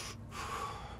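A single deep inhalation through the body, drawn in while pushing the belly outward for abdominal breathing, heard close and quiet as one short breath with no talk.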